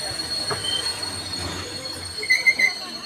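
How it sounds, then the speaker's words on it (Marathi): A train arrives at a Mumbai station with its wheels squealing in thin, high screeches over a low rolling rumble, the loudest squeals coming near the end of the short stretch. "ट्रेनसुद्धा आलेला आहे"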